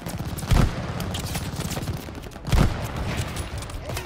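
Rifle fire in the Call of Duty Vanguard campaign at the Battle of El Alamein, with two heavy, close shot bursts about two seconds apart over a steady rumble of battle.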